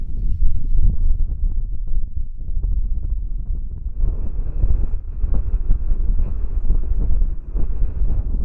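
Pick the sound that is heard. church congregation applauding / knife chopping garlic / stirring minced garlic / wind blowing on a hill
wind blowing on a hill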